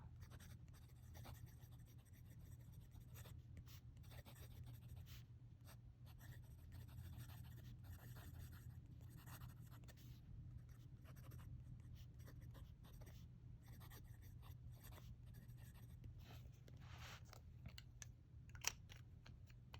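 A Sailor Pro Gear fountain pen with a gold nib scratches softly across Leuchtturm dotted A5 paper, a quiet, continuous scritching of strokes and short pauses over a low steady hum, close and faint with no talking.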